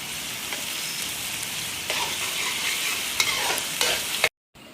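A tablespoon each of garlic and ginger sautéing in hot oil with chicken and vegetables in a karahi, a constant close sizzle broken by the scrape of stirring, then a sudden cutoff.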